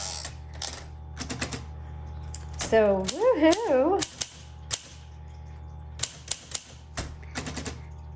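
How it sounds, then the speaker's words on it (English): Keys strike on a pink 1962 Olympia SM7 manual typewriter in sharp, spaced clacks, with a ratcheting carriage sound partway through. A person speaks briefly between the keystrokes. "I love this typewriter."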